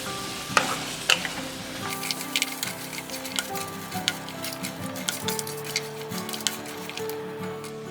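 Tomato and cashew masala for paneer butter masala stirred and fried in a pan, with steady close sizzling and scattered clicks of a spoon against the pan throughout.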